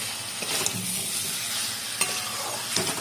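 Potato curry with chopped coriander leaves being sautéed in a pan makes a continuous soft sizzle under steady stirring, with a few sharp clinks of the spoon against the pan, close and without speech.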